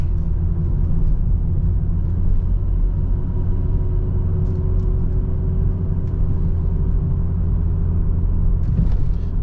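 A Volvo V70 2.5T with Geartronic automatic gearbox climbs a very steep hill, its engine giving a loud, steady low rumble that drones on without break from inside the cabin.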